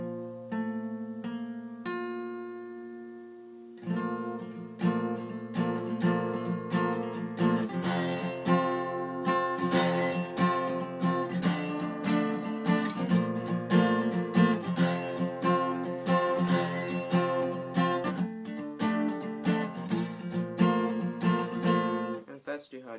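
An acoustic guitar strums a chord from a song, with a few picked notes at first, then steady, full strumming that rings on closely and loudly for a long stretch.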